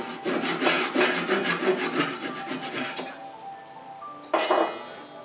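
Saw cutting off protruding glued wooden dowels: about three seconds of quick, steady rasping strokes close up, then a pause and a short clinking scrape.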